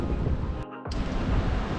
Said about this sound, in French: Comme vous pouvez l'entendre, beaucoup de vent, il y a de la pluie